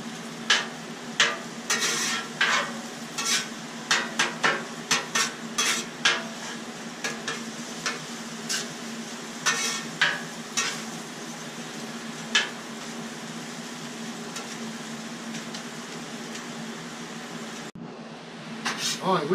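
Brains and eggs frying outdoors in a pan, being stirred: a steady sizzle runs throughout, with repeated sharp scrapes and taps of a utensil against the pan, occasional voices, and a brief drop near the end.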